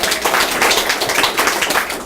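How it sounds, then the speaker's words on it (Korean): Audience applause at a Justice Party candidate's campaign office opening ceremony in Korea, a steady burst of crowd clapping that fills the whole stretch, close and fairly loud with no talking over it. "박수 부탁드립니다."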